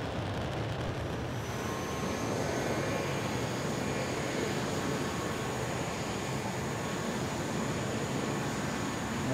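A BAE T1 Hawk jet engine spools up as the throttle opens in Microsoft Flight Simulator, a broad roaring rush with a high whine that builds and then holds steady and loud.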